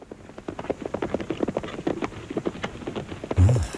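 Horse hooves clip-clop in a quick, uneven run of sharp knocks at moderate distance, ending with a brief louder thump.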